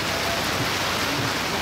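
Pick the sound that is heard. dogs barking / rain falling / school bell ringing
rain falling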